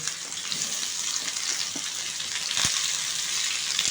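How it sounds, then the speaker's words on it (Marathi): Chopped onion fries in a pan, a steady close sizzle with faint stirring scrapes and one brief knock, no voices over it. "हा कांदासुद्धा आपल्याला एक दोन ते तीन मिनिट व्यवस्थित गुलाबी रंगावरती परतून घ्यायचा आहे"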